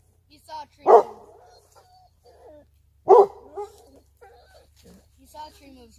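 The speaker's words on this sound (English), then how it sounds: "He saw a tree move, so he's barking." A dog barks twice during a winter day trip in Northern Michigan, loud sharp barks a couple of seconds apart, with softer whines and yips in between.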